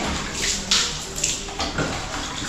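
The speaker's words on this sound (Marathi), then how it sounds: "मग घेऊन आता पाणी डायरेक्ट टाकून देते बघा" Water is poured straight from a mug onto a house floor being deep cleaned with phenyl, giving a few splashing gushes and a steady wash of water noise close by.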